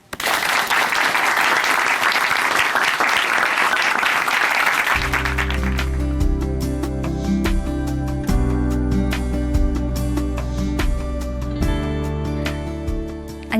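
A church audience gives a warm round of applause to welcome a guest speaker, lasting about five seconds before piano music swells in and carries on.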